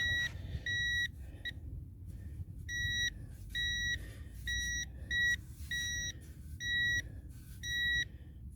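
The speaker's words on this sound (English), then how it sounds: "Can you hear that beeping?" A cheap metal detector on a beach emits repeated short, high beeps in uneven bursts over a constant low rumble outdoors.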